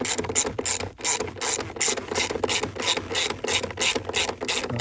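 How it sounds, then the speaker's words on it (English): A hand ratchet clicks rapidly in rhythmic bursts while tightening the bolt on a Buick Enclave upper torque strut mount, loud and close, with no talking. "Once you see the orange dot, put a ratchet on here."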